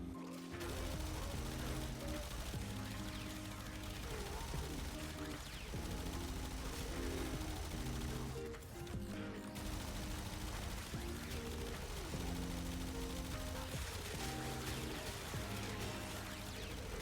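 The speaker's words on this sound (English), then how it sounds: "I have a minigun and I just want to hold down the trigger on enemies" A minigun in a shooter video game firing continuously at enemies, a dense rapid stream of gunfire with mechanical rattling and impacts, holding steady with one short pause midway, all under faint game sounds.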